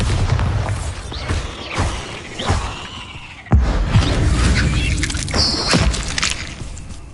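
Bombarda blasting spell explosions in Hogwarts Legacy, with several heavy booming blasts and one sharp loud impact midway, mixed with rumbling game effects and no talk.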